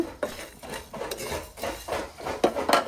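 Black pepper, cinnamon pieces and cloves are dry roasted in a pan without oil, with a spoon scraping and clinking against the metal in quick, uneven strokes close by.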